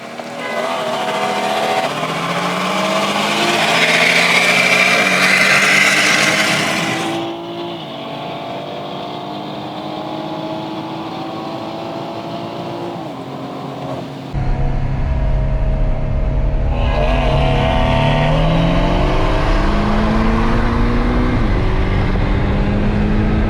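A BMW 340i and a Porsche 718 S accelerate hard in a rolling race from 40 mph. Loud engine notes rise through the gears, with sharp shifts, a drop in volume as they pull away, then a surge of throbbing revs again.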